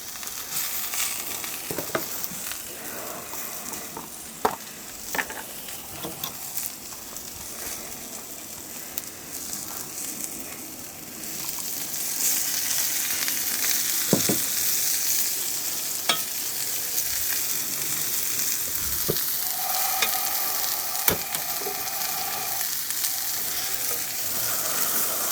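Onions frying on a hot shovel after a steak is seared on it, a steady close sizzle that swells louder partway through, broken by occasional scraping stirs.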